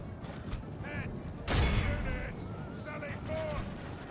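Soldiers in a medieval English battle game fire a loud volley that crackles into scattered gunfire over a distant battlefield din, with faint shouts and horn-like tones in the background.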